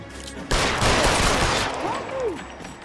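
Gunfire in the video game L.A. Noire: a sudden, loud, roughly one-second burst of rapid shots, followed by fading echoes and a couple of short whistling sweeps.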